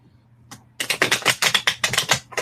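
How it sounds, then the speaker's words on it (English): Tarot cards being shuffled, a rapid series of about a dozen crisp, close riffling clicks in a steady rhythm after a brief pause, with no talking. "so I'm shuffling 4 more times"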